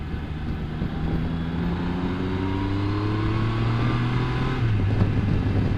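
A car speeding along winding country roads in Northumberland, its engine droning loudly and steadily as the pitch climbs through the gears, with a gear change near the end and constant road and wind noise.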